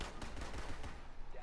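Rapid bursts of automatic gunfire from a Rainbow Six Siege match, fairly faint and somewhat distant, crackling through a short stretch of game action.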